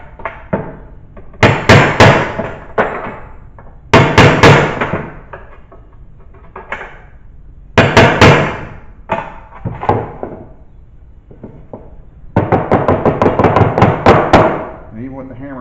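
Repeated hammer strikes on a chisel chip damage and contamination from the baffle of an old valve cover off a 1966 Mustang, coming in loud, ringing bursts of rapid blows separated by brief pauses.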